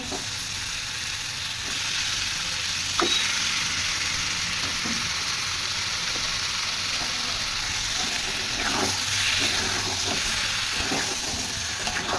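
Chicken pieces dropped into a hot pan with sugar and spices for a chicken and potato curry, a constant loud sizzle and hiss with a few sharper crackles and stirring clatters.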